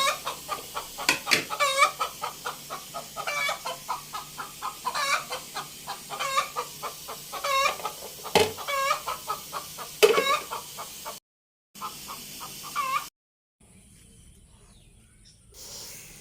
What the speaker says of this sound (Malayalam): നമ്മുടെ കോഴി രാവിലെ തന്നെ മുട്ടയിട്ട് കേട്ടോ